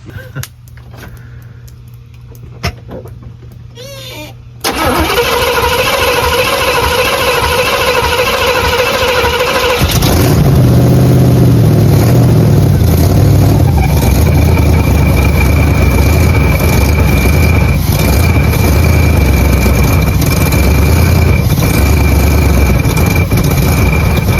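A 1985 Camaro engine cranks and fires up for the first time, then settles into a loud, steady running rumble close to the microphone, continuing unbroken for about twenty seconds.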